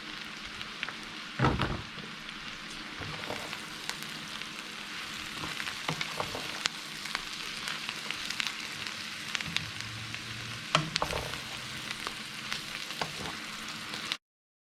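Sliced white mushrooms fry steadily in a pan, a dense, even sizzle throughout with a few louder clatters of the pan or utensil near the start and middle, no voices.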